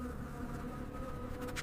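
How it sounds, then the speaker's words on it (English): Horseflies and blowflies buzz around a rhino, a steady close whining drone of wingbeats that swells slightly toward the end, with no voices. "Horseflies gather around the eyes, while blowflies search for any open wounds."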